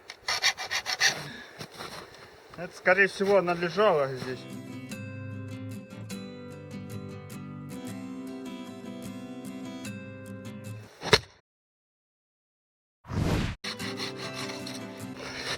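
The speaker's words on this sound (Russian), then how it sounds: "Затачиваем пилу." A saw being sharpened with a file at a winter forest camp, with rasping strokes up front, then a steady tonal ringing drone, a brief sharp scrape, a silent gap and a final burst of scraping; a voice briefly speaks.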